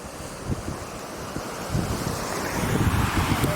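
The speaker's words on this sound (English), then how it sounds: "The wind's less here" Steady wind roars across the snowy open terrain of Denali, Alaska, a continuous broadband rush with soft buffeting thumps, growing slightly louder toward the end.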